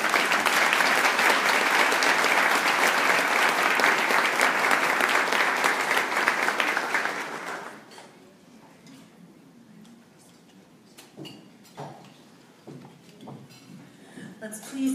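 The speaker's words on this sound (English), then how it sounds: "Let's please have another round of applause for Ada and for Tina" Audience applause after award speeches at an education event, a loud sustained burst of clapping for about eight seconds that then cuts off into quiet room noise with scattered knocks and movement.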